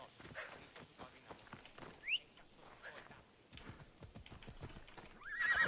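A horse in the video game Assassin's Creed Odyssey clip-clops along with rhythmic hoofbeats and snorts, a short neigh in the middle and another whinny at the end, faint and fairly close.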